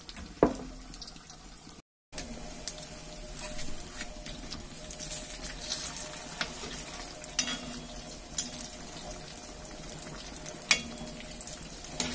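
Chicken pieces fry in hot coconut oil in a pan, crackling and sizzling continuously with scattered pops, spatters and utensil clinks, and one brief dropout near the start.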